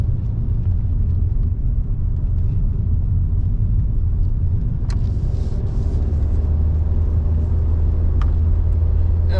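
A cheap daily-driver car under light acceleration, its steady low engine drone and road rumble continuous and close, with faint clicks and rattles from inside the cabin.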